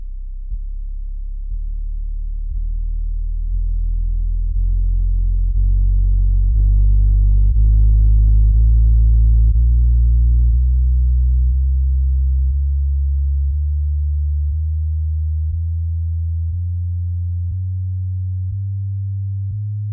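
Sine test tone played through a Neumann KH 120 studio monitor, a single pure tone slowly rising in pitch as a steady sweep, loud and alone for the whole stretch.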